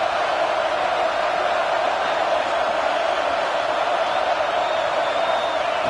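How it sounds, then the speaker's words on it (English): Stadium crowd in a college football video game, a dense, steady roar of many voices that holds at an even level throughout, with no clear single voice rising out of it. "It's early, but this crowd is fired up. Listen to this noise here."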